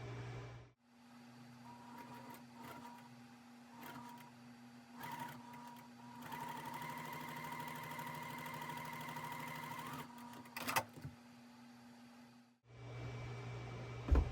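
Sewing machine stitching a quilt block, a steady mechanical hum with rhythmic needle chatter that runs nearly unbroken for about twelve seconds, close and moderately loud, with brief pauses and handling clicks before and after.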